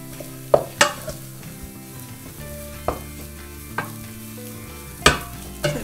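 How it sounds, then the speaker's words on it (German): A spoon stirs and scrapes choux pastry dough in a pot on the stove, with a soft sizzle underneath and irregular knocks against the pot, close and fairly quiet. "Jetzt muss der Teig abgebrannt werden, das heißt so lange gerührt werden, bis es ein großer Klumpen ist"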